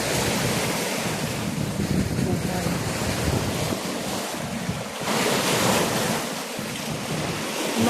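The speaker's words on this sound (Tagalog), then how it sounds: "Yung dagat na yun." Continuous rushing sea waves on the Hong Kong coast with heavy wind buffeting the microphone, loud and close, with a faint voice underneath.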